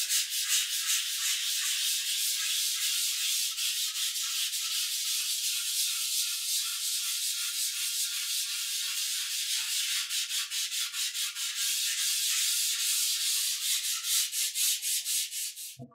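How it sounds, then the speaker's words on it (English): Hand sanding of a mold parting plate with 220-grit sandpaper using a light touch, a steady close scratchy rasp running continuously with rhythmic back-and-forth strokes and no talking. "sand the parting plate. And with 220, you want a light touch."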